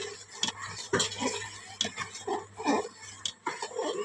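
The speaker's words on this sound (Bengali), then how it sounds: "এবার নাড়ানাড়ি চলছে" Rice being stirred in a cooking pot of boiling milk while making pulao, with intermittent scraping and clinking strokes of a utensil against the pot, close and moderately loud, a low steady hum underneath.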